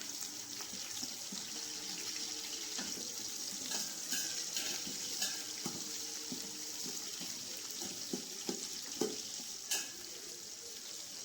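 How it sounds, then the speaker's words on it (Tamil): Whole spices, including cloves, bay leaf, cardamom and star anise, sauté in a pot for mutton biryani while a ladle stirs them, making a soft, steady sizzle broken by scattered scraping clinks. "இப்போ ஒரு கரண்டி வச்சு நல்லா வதக்கி விட்டுக்கோங்க."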